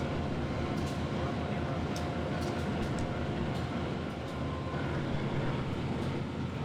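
In Trainz Simulator, a passenger train on the Malang–Jakarta run rumbles along the rails, a steady, fairly faint rolling drone with light clanks and squeals scattered over it.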